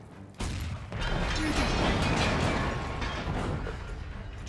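A broad, rumbling explosion in Jagged Alliance 3 swells up after a short lead-in, sustaining a dense roar for several seconds before slowly thinning out, loud and close.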